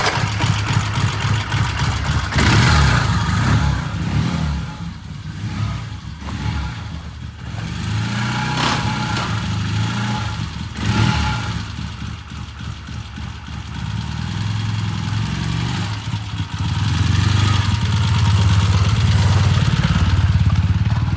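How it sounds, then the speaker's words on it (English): A 1978 Triumph motorcycle engine in a shop, idling steadily around 900 RPM and then revving up and dropping back in several loud, close swells, the rough mechanical throb continuous throughout. "While he was sitting on it with his weight on the bike and revving the engine"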